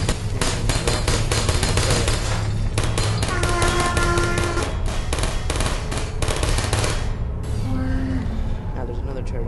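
A turret in the Portal game fires rapid bursts of sharp, rattling shots in fast repeated volleys, loud and dense, while someone talks over the gunfire.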